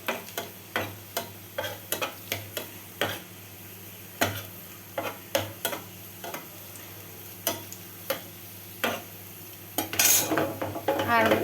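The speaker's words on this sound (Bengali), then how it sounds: "এখন ডিমটা ভাজলাম।" An egg frying in a pan, with a steady run of sharp spatula taps and scrapes against the metal, then a louder burst of hissing sizzle near the end.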